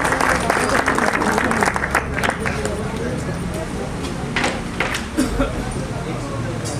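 Applause at a railway yard retirement party, a room of guests clapping steadily for several seconds with scattered louder claps and murmuring voices underneath.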